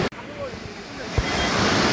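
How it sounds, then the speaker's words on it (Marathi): A large waterfall at Amboli roars as steady, broadband rushing water, loud and close, running continuously through the whole moment. "तुम्ही आवाज ऐकू शकताय मला वाटतंय हा एवढा मोठा धबधबा"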